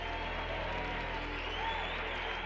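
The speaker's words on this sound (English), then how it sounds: "the auditorium erupted in a great cheer" A packed JPL auditorium crowd cheers at a spacecraft's moon impact: a sustained, dense roar of voices and applause that holds steady throughout.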